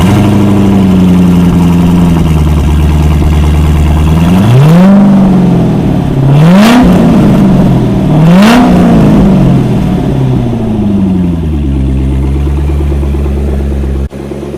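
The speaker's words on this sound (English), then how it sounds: "One thing I do want to point out really quick, which is the exhaust sound. Again, this has a aftermarket Corsa exhaust." Loud, close engine of a 2012 Corvette Grand Sport fitted with an aftermarket Corsa exhaust, idling with a deep rumble and then blipped in two sharp revs that swell and fall back before settling to idle again.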